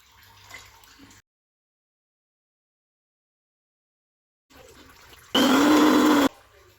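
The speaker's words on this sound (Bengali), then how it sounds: "এবার আমি চালটা বেটে নেব" A mixer grinder whirs loudly for about a second while grinding soaked rice for chakli batter, a harsh motor roar that starts abruptly after quiet and near-silence.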